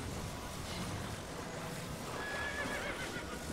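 A horse whinnies in The Legend of Zelda: Tears of the Kingdom, faint and distant over steady hooves clip-clopping and a broad noisy game background.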